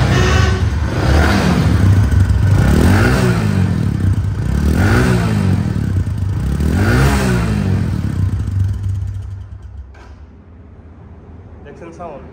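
Bajaj Platina 110cc motorcycle engine running and revved up and down several times in rising and falling sweeps, loud and close, then dropping back to a quieter idle near the end.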